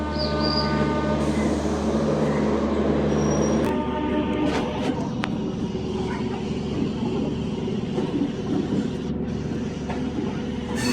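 A MEMU passenger train runs along the track, heard from inside the last coach: a loud continuous rumble with steady tonal hum and clattering wheel noise that shifts partway through, with scattered knocks.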